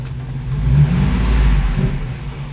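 A car engine revs up under throttle from idle, a loud, near low rumble that swells and holds, then eases off slightly toward the end, with no talk.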